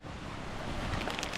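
Steady broadband wash of ocean surf on a beach with wind rushing across the microphone, continuous and fairly loud, no voices.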